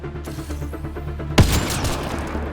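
A single sharp gunshot cracks out partway through a firefight in the sci-fi shooter Mass Effect: Andromeda, cutting across a pulsing, rhythmic background hum and leaving a rumbling tail behind it.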